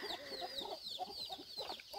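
Farm chickens clucking busily, several hens overlapping in quick, repeated clucks, close and steady with a faint background hum.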